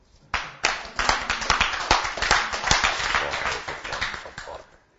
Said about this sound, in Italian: Me lo fai un applauso?